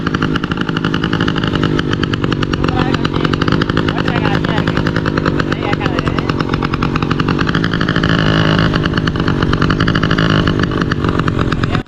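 A bicycle converted into a motorbike with an add-on engine and its silencer rubber pulled out, running with a loud, continuous buzzing putter throughout, close up, with a voice talking over it.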